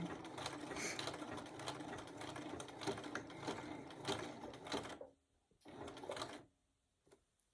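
A sewing machine stitching an appliqué wall hanging runs with a steady, close mechanical whir, then stops, makes one short burst, and falls quiet.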